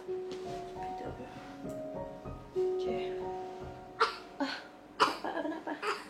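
Someone coughs a few times, sharp short bursts near the end, over faint tonal background sounds and soft voices.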